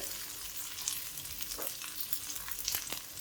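Onions, chillies and dates sauté in a pan, giving a steady close sizzle with a few soft scraping stirs over about three seconds and no talking.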